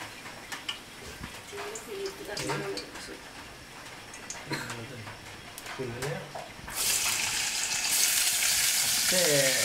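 Hot oil sizzles in a frying pan for onion and garlic, the steady hiss rising sharply louder toward the end, with a few clinks of utensils and a person talking intermittently over it.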